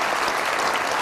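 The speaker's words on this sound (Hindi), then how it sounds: "बहुत सारी तालियां भाई साहब के लिए।" Studio audience at a comedy talk show breaking into loud, continuous applause, a thick uniform roar of many hands clapping at once.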